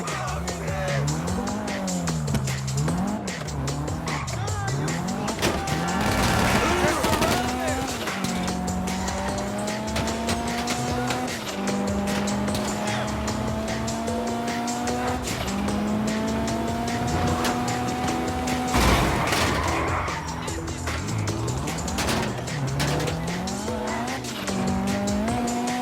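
A wrecked car in Grand Theft Auto V racing hard, its engine droning loudly and steadily while tires squeal in long wavering skids almost throughout.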